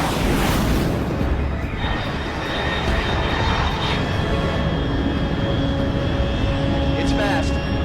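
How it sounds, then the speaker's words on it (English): An unidentified high-altitude aircraft, fast enough to exceed Mach 3, in the Metal Gear Solid Delta: Snake Eater video game gives a steady, continuous roar with thin whining tones that holds through the whole stretch. "Control, unidentified aircraft detected."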